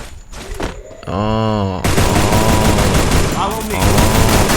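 Rapid gunfire from the Free Fire video game, dense and loud bursts running almost continuously, mixed with harmonic game effects and voice-like sounds.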